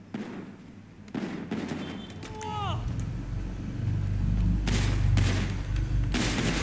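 Gunfire at the Los Santos Gun Club shooting range in GTA V, a dense steady volley of game gun shots over a loud background, with a brief rising electronic chirp partway through.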